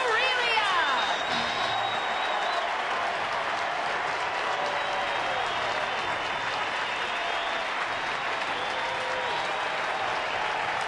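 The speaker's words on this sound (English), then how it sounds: "So Aurelia receiving a standing ovation." A baseball stadium crowd giving a standing ovation during a Diamondbacks at Giants game, a sustained roar of cheering and applause that stays constant and loud, with a few whistles at the start.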